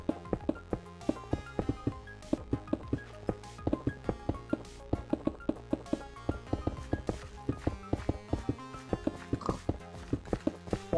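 Horses and other animals in the Minecraft video game give steady clip-clop hoof steps, a dense irregular rhythm of close, moderately loud taps running throughout with no talk over them.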